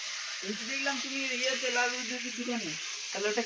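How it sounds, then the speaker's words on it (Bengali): Meat curry cooking in a pan gives off a steady, close sizzling hiss that runs beneath a person talking throughout. "এখন দেখো মাংসটা হচ্ছে শুধু মাংস ঝোল আর ভাত আর কিছু না"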